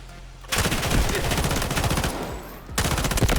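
Rapid automatic gunfire in the shooter game Delta Force: Hawk Ops, loud close bursts that start suddenly, pause briefly, then resume.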